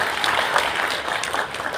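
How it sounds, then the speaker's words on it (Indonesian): Applause for company management at an annual cooperative members' meeting in Cilegon, a steady crowd clapping indoors that holds even and dense for the whole stretch. "Aplaus buat bapak-bapak manajemen"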